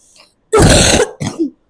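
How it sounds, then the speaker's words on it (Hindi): One harsh, loud cough close by, followed by a shorter throaty second burst, then silence. "खांसी हो गई"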